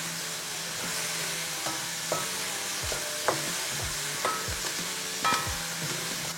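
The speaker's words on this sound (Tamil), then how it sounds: "அப்போ கொஞ்சம் கேரட்டும் வெங்காயமும் சேர்ந்து ஓரளவு பொரிஞ்ச மாதிரி வரட்டும்." Carrots and onions fry in a pan for a vegetable samosa filling, a steady close sizzle broken by repeated scrapes and clinks of a spatula stirring the vegetables.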